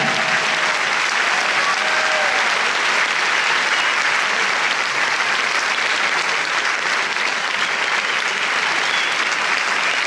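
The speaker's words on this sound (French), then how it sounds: "on va essayer de faire tenir les applaudissements sur l'escalier" A large film-premiere audience at a Paris cinema claps loudly and evenly, a thick unbroken roar of hands that stays constant throughout without voices standing out.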